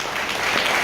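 Audience applause at a Hare Krishna devotional gathering, a short steady wash of clapping from a group.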